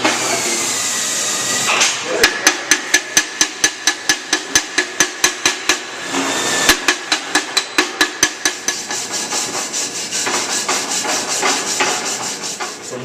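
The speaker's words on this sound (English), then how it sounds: "Now I'm going to take the chipping hammer and the cleaning brush and chip the slag off so I can show you the root bead." A chipping hammer knocks slag off a weld root bead in two quick bursts of sharp, evenly spaced metallic taps, each about a dozen strikes long, separated by brief scraping and brushing.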